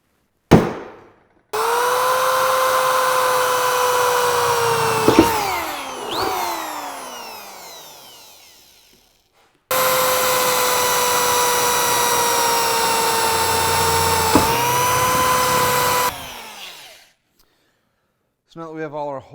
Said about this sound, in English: So now that we have all our holes drilled,